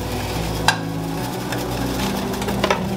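Butter sizzles in a pan over medium heat, a soft steady frying hiss with a few sharp clicks of a utensil against the pan and no talking.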